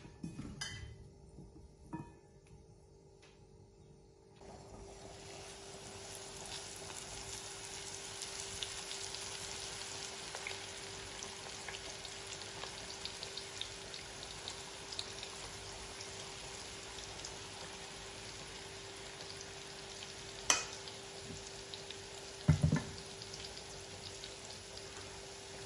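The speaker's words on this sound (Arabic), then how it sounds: "بس يحمى الزيت دغري ببلش قلي." Onions dusted with flour sizzle quietly in oil, a low, even crackle like light rain that starts a few seconds in and continues, with a few soft clinks and no talking.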